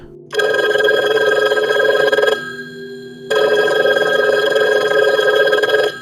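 A telephone rings as a sound effect: two long, loud electronic bell trills, each about two seconds, separated by a short pause, heard alone without voices.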